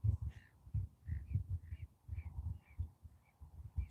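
A bird near a fishing boat at sea gives a series of repeated harsh calls, about eight in quick rhythmic succession, fairly close against a quiet background.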